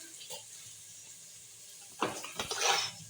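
Water from a kitchen tap runs into a sink while chicken is washed, a soft hiss that swells into louder splashing toward the end, with some background talk.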